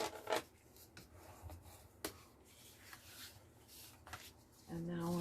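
Dry rubbing and scraping on paper while burnishing folds for a mini album, a few short strokes with brief sharper ticks, close and quiet.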